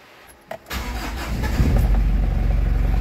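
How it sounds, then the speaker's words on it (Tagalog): A car engine starting at night: a couple of faint clicks, then the starter catches and the motor rises into a loud, steady idle close by. "start ko muna yung sasakyan ha"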